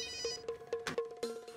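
A telephone bell rings in a home drama scene, repeated short trilling bursts in steady rhythm, fairly close and clear with no talk over it.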